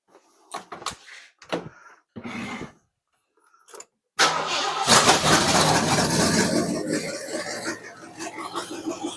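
A freshly repaired car engine with no exhaust connected cranks in a few short stuttering bursts, then catches and runs loud and rough, up close.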